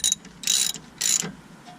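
A hand ratchet snugging 13mm bolts during intermediate shaft work on a Dodge Caliber SRT-4, heard as three short bursts of rapid metallic clicking, close and clear, with no talking.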